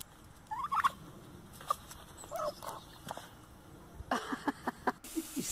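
A bird gives a few short, chirpy calls in brief bursts, fairly faint against a quiet background, and a sharper scuffing noise follows near the end.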